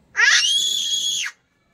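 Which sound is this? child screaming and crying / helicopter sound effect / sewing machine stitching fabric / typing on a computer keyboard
child screaming and crying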